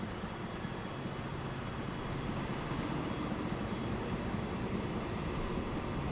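A train rolls past in the Transport Fever 2 simulation game, producing a steady, dense rumble of rolling noise that holds at an even loudness throughout, with no other distinct sounds above it.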